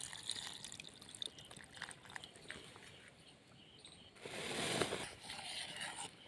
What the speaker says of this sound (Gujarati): એની અંદર આપણે પાણી નાખીએ